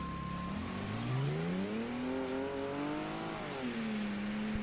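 Engine of a car in Mafia III revving and shifting, pitch rising and falling through the gears at close range with a faint tire squeal, alone and without talk.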